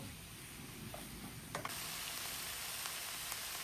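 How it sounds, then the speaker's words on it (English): Beef and thyme browning in a pan for a chunky beef pie, a soft continuous sizzle with a few small crackles, close and fairly quiet, no talking. "we're going to get everything brown in that pan"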